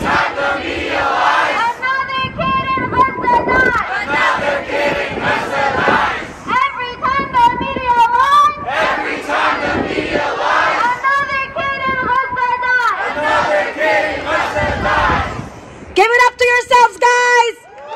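At a pro-Palestine rally and march, a crowd chants loud, rhythmic call-and-response slogans in repeated bursts, close and shouted, with pauses between the phrases.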